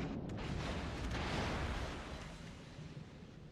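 A naval gun salvo from the cruiser Des Moines in a video game booms out in a broad, rumbling blast that swells and then slowly fades into a low roar.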